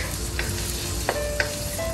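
Chopped onions sizzling in a pan with garlic and ginger for a chicken panang curry, a continuous close crackle with a few sharp clicks and stirring scrapes, no voices.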